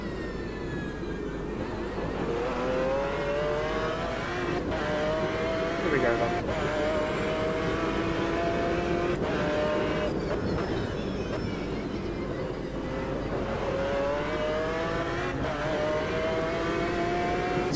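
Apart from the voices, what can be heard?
V12 BMW race car engine revving in Automobilista 2 video game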